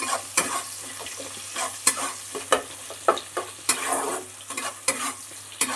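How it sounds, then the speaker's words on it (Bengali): Chopped onion and garlic fry in hot oil, a close crackling sizzle punctuated by a dozen or so sharp spatter bursts and stirring clatters at irregular intervals, over a low steady hum, with no talking. "দেখো একটু লাল লাল করে ভেজে নিচ্ছি প্রথমে।"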